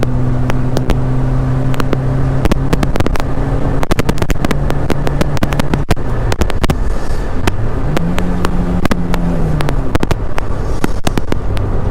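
Renault Megane Coupe engine droning steadily while driving, with a low hum that holds pitch then dips and rises again as the car changes speed, loud and close throughout with sharp clicks and knocks scattered across it.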